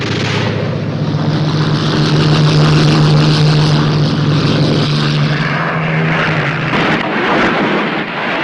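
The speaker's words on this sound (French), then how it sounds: "Les pilotes alliés qui fêtaient le nouvel an décollent en catastrophe." Allied World War II fighter planes, Spitfires and Thunderbolts, take off in a hurry, with a loud, steady propeller-engine roar that swells and holds for several seconds before thinning out.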